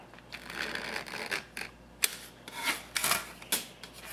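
Filter holder material for an entertainment center cooling fan being cut out by hand, heard as a quiet, close series of short scraping, rasping strokes with brief pauses between cuts.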